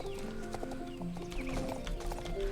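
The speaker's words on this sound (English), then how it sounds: "I'm currently training Elder, which is one of the older horses in the game" Horse hooves clip-clop in a steady rhythm while a horse whinnies, in the Star Stable online horse-riding video game, with faint game music underneath.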